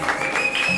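Short burst of audience applause for a first-place student at an award presentation, dense patter of hands at moderate loudness.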